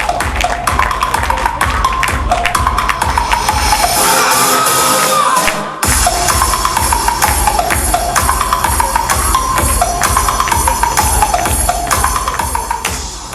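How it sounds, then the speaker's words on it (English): A crowd at the WOW Personality Awards 2016 ceremony applauds an awardee with dense, sustained clapping and a few cheers, pausing briefly before surging again. "Big round of applause for"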